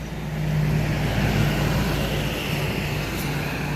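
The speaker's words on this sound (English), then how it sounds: "every time I start to shoot video, a car just decides to pass." A vehicle rolls past on a nearby road, a steady broadband whoosh of tires and engine that holds at a constant level throughout.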